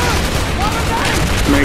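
Rapid gunfire in Call of Duty Black Ops, a dense, loud, continuous barrage of shots filling the whole stretch with no pause.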